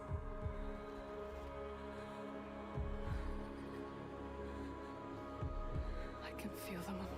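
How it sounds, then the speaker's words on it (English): A heavy, throbbing heartbeat sound effect pulses in a game trailer, low repeated thumps over a droning hum and music, with no talking. "Do you hear it? The heartbeat of the lost ones."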